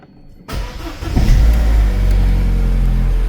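A salvage-auction car with 86,000 miles cranks and starts after a brief silence, then settles into a loud, close, steady engine idle.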